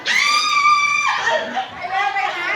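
High-pitched screaming from a crowd of young kindergarten children at a school Mother's Day event in Hat Yai, Thailand, loud and sustained for over two seconds, then breaking into mixed shouting and chatter.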